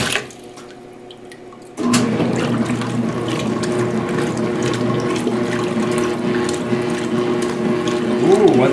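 A washing machine tub agitates through a cold-water rinse, the drive ratcheting and clicking over a steady mechanical hum with sloshing water, starting abruptly after a quieter stretch and then running continuously and fairly loud.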